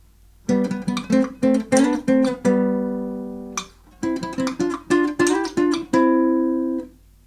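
Bowed string double stops in thirds and sixths ring out in a series of short and sustained two-note chords, clear and close with no talking.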